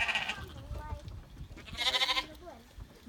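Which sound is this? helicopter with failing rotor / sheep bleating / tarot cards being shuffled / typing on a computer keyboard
sheep bleating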